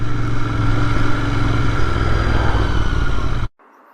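A 2021 Royal Enfield Continental GT 650 motorcycle rolls along with a loud, steady engine drone mixed with wind rush, then cuts off sharply into quiet near the end.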